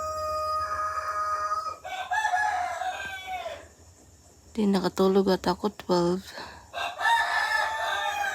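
Roosters crow repeatedly around 4 a.m., one nearby and loud, others answering, while a person speaks briefly between the calls.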